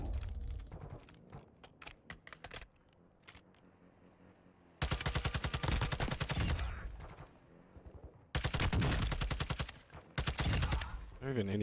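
Gunfire in Warzone 2, close, loud automatic bursts in two long rapid volleys with scattered single shots and quieter clicks between.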